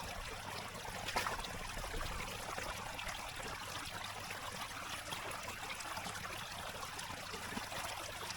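River water runs through a homemade unconventional gold-prospecting sluice held in place with rocks and dammed to boost the flow, making a continuous trickling, rushing wash that stays steady and close, with no voices.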